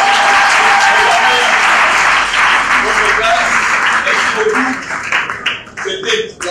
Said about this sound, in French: Est-ce qu'on peut applaudir très fort?